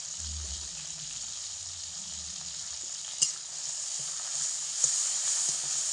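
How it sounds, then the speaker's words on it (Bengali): Spices with chopped tomato, salt and turmeric fry over low to medium heat for a potato and eggplant curry: a steady soft sizzle with stirring scrapes and two sharp utensil clinks against the pan. "এই সমস্ত কিছুকে আগে ভালো করে লাল করে ভেজে নেব"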